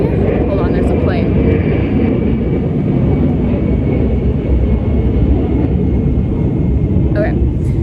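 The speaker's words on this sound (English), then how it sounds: "Hold on, there's a plane." An airplane passes overhead as a loud, steady broadband roar that fills the whole stretch, with faint traffic-like rumble underneath.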